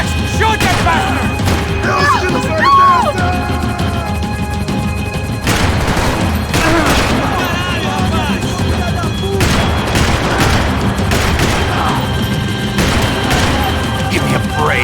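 Gunfire in Max Payne 3 during a chase, scattered sharp shots and bursts over heavy engine and action noise, with a few crash-like impacts and brief shouted voices.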